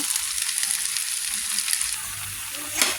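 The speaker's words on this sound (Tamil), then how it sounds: "ஆயிலில் பாருங்கள் வெந்து வந்துக்கிட்டே இருக்குது" Snacks frying in hot oil over a low flame, a steady bright sizzle with no one talking, and a small burst of louder crackle near the end.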